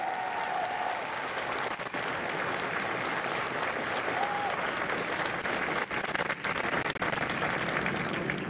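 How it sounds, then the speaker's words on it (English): A large crowd at a U.S. Marine recruit graduation at MCRD San Diego applauds the drill instructors of Hotel Company, a dense, sustained roar of clapping that stays loud and even throughout, with a couple of faint whistles. "a round of applause for the Marines that make Marines"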